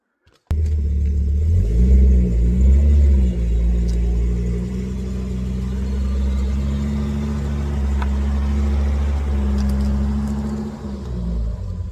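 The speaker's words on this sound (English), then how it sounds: "now I'm going to get the car in." An old Volvo car with a rattly gearbox starting up and being driven in, a close, steady low engine rumble that swells briefly with revving, then settles into a sustained drone.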